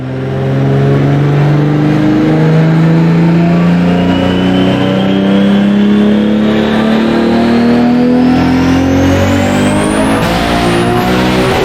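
A race car engine roars loud and close during a test pull, its droning note climbing steadily in pitch as it accelerates, then easing off near the end.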